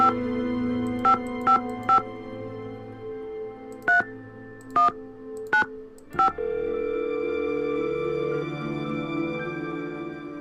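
Touch-tone keypad beeps dial a phone number in a video game, eight distinct tones spaced irregularly over a humming musical background, followed by a sustained tone.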